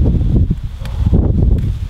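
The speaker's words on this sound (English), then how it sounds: "So it's real, real, real windy." Strong gusty wind in a cassava field buffets close to the microphone, producing loud, uneven low rumbling surges with some rustling.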